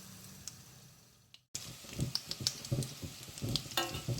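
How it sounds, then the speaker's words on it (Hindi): Chicken, cheese and potato balls deep frying in hot oil, with crackling sizzle and small pops at a close distance, starting after a brief silent gap, no talking. "इन्हें डीप फ्राई कर लें।"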